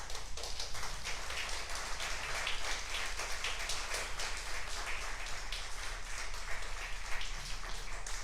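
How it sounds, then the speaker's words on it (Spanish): Applause from a church congregation during a Spanish sermon, a fairly quiet, even patter of many hands clapping continuously throughout. "Dale un aplauso al Señor, hermano"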